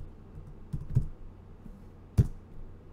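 A command typed on a computer keyboard, with a few scattered key clicks and a sharper keystroke near the end, close and fairly quiet over faint room hum.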